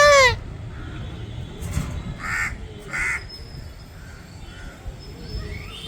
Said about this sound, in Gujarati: જોઈ લો, 2 કાગડા આવી ગયા છે ચાલુ વરસાદે.